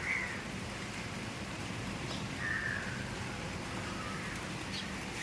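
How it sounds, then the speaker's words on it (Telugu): Soft, steady hiss of light rain falling outdoors, with a couple of faint bird chirps over the patter. "వాన పడుతుందండి"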